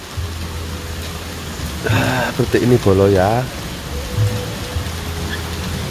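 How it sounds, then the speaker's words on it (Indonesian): Steady rain falls over a rural village in the late afternoon, an even, close hiss that continues throughout while someone speaks briefly partway through. "Jadi kalau nggak hujan itu enak lur, tapi ini hujan"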